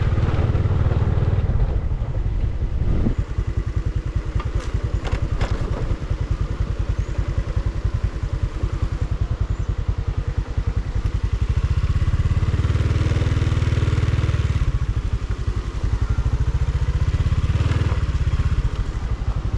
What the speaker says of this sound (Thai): เดี๋ยวขี่รถมอเตอร์ไซค์ดูก่อน